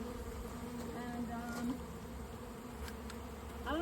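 Honeybees buzz steadily around a newly installed package hive, with a close, continuous hum and individual bees droning past near the listener.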